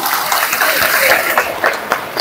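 Audience applause at a World Tribal Day (Vishwa Adivasi Diwas) gathering, a dense, steady wash of many hands clapping that carries through the whole stretch, with a few louder claps rising above it.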